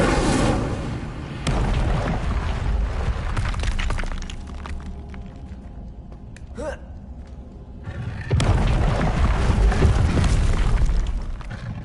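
Fire spell cast in Hogwarts Legacy, heard as loud booming, crackling bursts with thuds and shattering textures among continuous game sound, with a brief quieter gap before another heavy surge.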